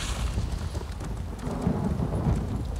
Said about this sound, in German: Renn, Pferd, renn.